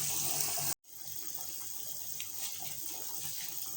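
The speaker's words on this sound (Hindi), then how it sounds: "यानी कि पानी डाल सकते हैं," Water pours steadily with a rushing splash into a pot of mutton kofta curry to make the gravy, cuts off abruptly for a moment, then continues as a softer, continuous stream.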